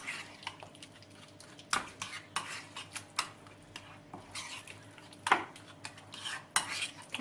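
Yogurt, oily pepper paste sauce mixed in a bowl for grilled chicken wings, a utensil scraping and clinking against the bowl in irregular nearby strokes with occasional sharper knocks.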